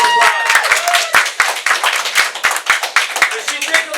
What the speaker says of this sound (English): Let's give our great transaction coordinator a huge round of applause.